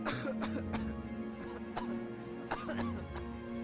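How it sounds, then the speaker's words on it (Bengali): A person coughs several times in short, harsh bursts, heard as a sound effect in a Bengali horror story, with steady eerie background tones and a low hum underneath. "হঠাৎ একজনের কাশির আওয়াজ ভেসে এলো।"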